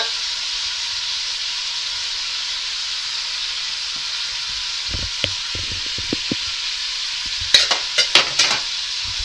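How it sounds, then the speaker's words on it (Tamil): Onions sautéing in mutton fat for a wedding-style mutton dalcha, a continuous close hiss of frying, with several utensil scrapes and clinks stirring the pan toward the end. "வெங்காயத்தை போட்டு ஒரு தாலி கொஞ்சம் வெங்காயம் வதங்கட்டும்"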